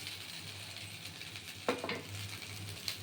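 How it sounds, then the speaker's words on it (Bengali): Fried cauliflower stirred in a pan for poha pulao, a quiet sizzle with a few sharp scraping clinks of a spatula against the pan. "দেখুন এবার এটা নেড়ে চেড়ে কারণ কপিটা পুরো ভাজা"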